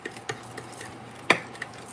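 A flour mixture for BBQ baked potatoes being stirred in a bowl, with light scattered scrapes and taps of a utensil and one sharper clink, close and fairly quiet.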